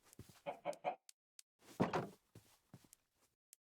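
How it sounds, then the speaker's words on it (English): Chicken clucking in a farming video game, a few short clucks in a quick burst followed by a louder squawk, with softer scattered clucks trailing off afterward. "Come on in. Chicken. Come on, follow me."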